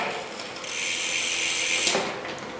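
Bicycle rear derailleur on a rear mech being shifted across the cassette with the chain running, giving a continuous close whirring and ratcheting with a brief clunk near the end.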